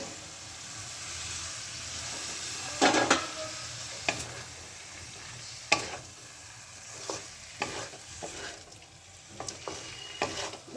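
Fried cauliflower and potato are stirred into masala in a pan. A constant sizzle runs beneath irregular scraping and knocking strokes of the spoon, and no one speaks.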